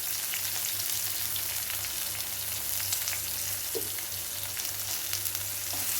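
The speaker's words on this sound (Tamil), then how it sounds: "வெங்காயம் வதங்கட்டும்" Chopped onions sautéing in a pan with curry leaves and salt, a continuous close sizzle with light stirring scrapes and no talking.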